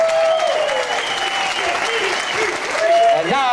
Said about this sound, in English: applause going for a great band in the background